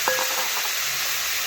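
Chopped pumpkin and Malabar spinach hit hot oil seasoned with whole cumin, dried chili and bay leaf, giving a brief splash and then a steady, loud sizzle with no voices.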